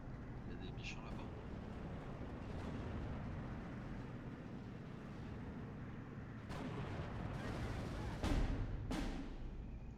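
Artillery and anti-tank gun fire in the World War II strategy game Steel Division 2, with distant booms under a constant low rumble and a few sharper blasts toward the end.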